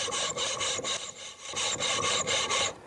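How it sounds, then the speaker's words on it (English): An ARTU drill bit grinds back and forth through a hard surface, giving a steady, close rasping scrape in repeated strokes with a short lull midway and no talk. "You can hear it cutting both ways, see that?"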